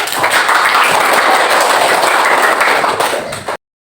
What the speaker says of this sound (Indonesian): tepuk tangan buat teman kamu ini